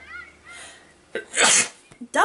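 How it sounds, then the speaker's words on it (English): A person lets out a sharp, loud sneeze as the second of a double sneeze, coming right after a quieter first burst, followed by a short sniff and the start of another breath. "Double sneeze."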